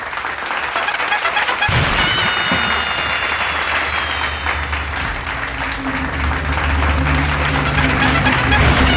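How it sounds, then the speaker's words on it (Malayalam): Audience applause bursts in loudly after a quiet stretch and keeps going as a dense, steady wash of clapping, with musical tones ringing over it and a low hum underneath, at a Malayalam entertainment show. "നല്ലൊരു കൈയടി."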